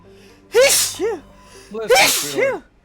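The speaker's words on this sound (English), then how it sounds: "Sneezing is always relief." Two loud, close sneezes about a second and a half apart, each a sharp explosive burst followed by a brief voiced tail, with no talk around them.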